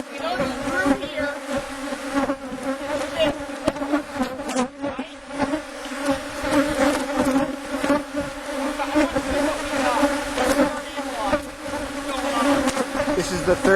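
Honeybees swarm around an opened hive box during an inspection, a dense close buzzing with steady droning tones and fluctuating loudness throughout, with occasional faint handling noises.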